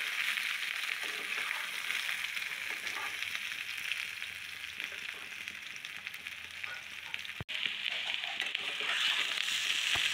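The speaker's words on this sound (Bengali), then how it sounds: "তারপর আলুগুলোকে সুন্দরভাবে ভেজে নেব।" Boiled potatoes fry in a pan with a loud, continuous hissing sizzle that runs unbroken for several seconds, with one brief sharp click partway through.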